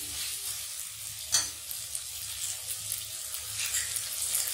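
Chicken pieces sautéing and being stirred in a pan for a white Bengali rezala curry, a steady close sizzle with soft scraping stirs and one sharper clatter near the start, no talking.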